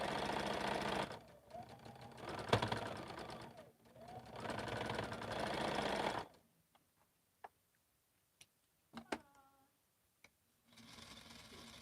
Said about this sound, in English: I'm sewing really slow